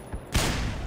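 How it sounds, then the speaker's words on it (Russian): A pistol fires in the video game Black Mesa, one sharp, close shot cracking out after a brief quiet moment and trailing into a short rumble. "А из пистолета можно пострелять?"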